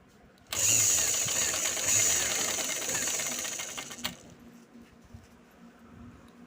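A sewing machine runs steadily for about three and a half seconds, stitching elastic around a straight pant waistband, then stops into quiet room noise.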